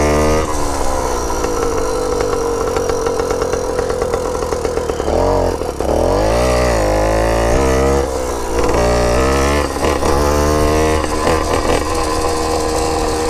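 A Brandani Cross motorcycle engine idles loudly, then revs up and down in several rising and falling bursts through its exhaust before settling back to a steady rumble.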